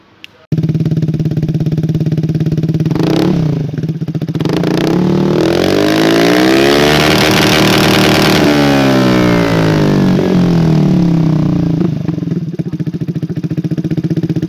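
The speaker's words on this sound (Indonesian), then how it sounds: "Wah, mantep deh suaranya, knalpot deh. Kenceng banget." A modified Vespa Sprint I-Get scooter with an aftermarket exhaust revs loudly and close, pitch climbing and falling through several long throttle pulls with a steady idle between, no voices.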